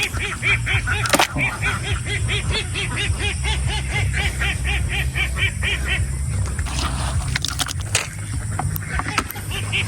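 A flock of domestic ducks kept for egg laying on a small duck farm gives a steady chorus of repeated honking quacks, fairly close and continuous, over a low rumbling background.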